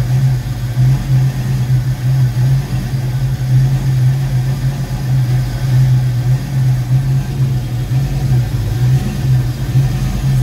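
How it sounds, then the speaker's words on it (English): A Ford Foxbody Mustang engine idles roughly and unevenly for ten seconds with a steady, slightly pulsing low rumble, close to the microphone, with no talking. "I've never had an idle like this yet."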